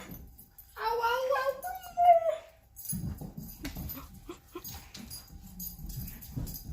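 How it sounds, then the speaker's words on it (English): A dog whimpers and whines in a high, wavering tone for a couple of seconds up close, then people talk nearby. "It's our dog."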